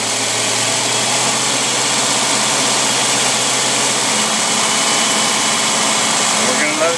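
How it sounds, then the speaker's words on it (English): Engine fitted with an electronic Rochester Quadrajet carburetor runs steadily and loud, its hum holding fairly even with only a slight rise in speed toward the end, under a constant broadband roar. "Now we're going to increase the RPM."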